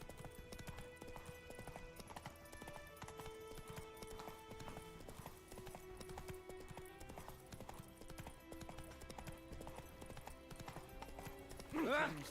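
Horse hooves clip-clop at a steady trotting rhythm in the video game The Witcher 3, with faint game music underneath and a brief louder burst at the end.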